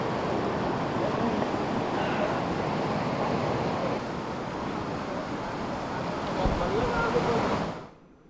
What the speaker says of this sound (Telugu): భారీ వరదలతో మద్దిగుండం చెరువు ఆనకట్టుకు గంటపడింది. ఇంకేముంది, నీరు అంతా వృధాగా పోతుంది.